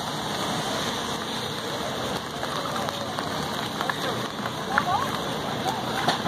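Steady rain pattering on a surface at an outdoor farmers market, a constant wash of drops with a few faint brief sounds mixed in.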